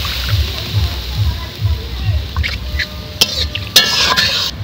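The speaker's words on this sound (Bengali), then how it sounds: "এখন আমি জল দিয়ে দেব।" Water is poured into a pan of egg curry being cooked, a splashing, sizzling pour under a woman's speech, with a low rhythmic stirring and scraping in the pan.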